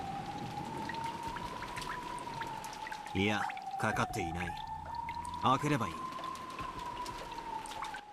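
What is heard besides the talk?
water running from shower in video game Umineko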